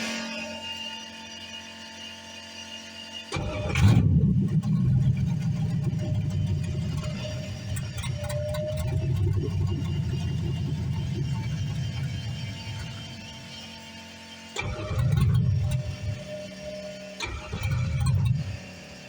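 A Foxbody with a swapped LS V8 cranking on its third start attempt: three separate bursts of starter churning, a long uneven crank that catches briefly before dying, then two shorter cranks, with quiet gaps between.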